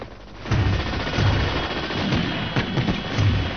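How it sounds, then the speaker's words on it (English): Heavy machine gun fire from a Soviet convoy on a main road, a dense rolling barrage of rapid bursts after a brief quieter start, loud and continuous. "the Russians unleash a deadly barrage of return fire"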